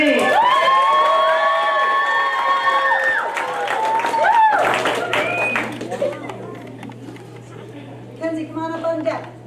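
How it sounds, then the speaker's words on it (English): An audience at a fifth-grade poetry slam cheers and claps loudly, with shrill shouts and whoops from children over steady applause that fades toward the end, as voices shout over it. "Loud and raucous applause."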